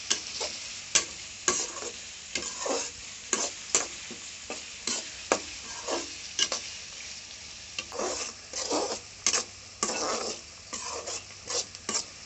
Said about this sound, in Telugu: నూనె వేడెక్కిన తర్వాత 3 ఉల్లిగడ్డలు తరిగి పెట్టుకున్నాను, అది వేసేసుకుందాము